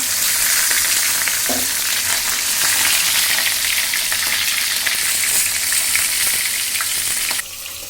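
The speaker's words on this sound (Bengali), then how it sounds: "এই যে কোরাল মাছ ভাজি করতেছি।" Coral fish fries in a pan, a loud, steady, close sizzle crackling continuously throughout with occasional stirring noises and no talking.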